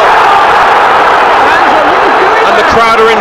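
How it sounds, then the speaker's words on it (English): Football crowd cheering at Newcastle United v Manchester City, a Premier League match at St James' Park: a loud, dense, steady roar of stadium noise under a commentator's voice, swelling slightly toward the end. "And the crowd are involved in the game."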